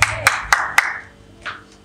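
Congregation at a church service clapping hands: four sharp, evenly spaced claps close by, then a softer clap and faint trailing sounds.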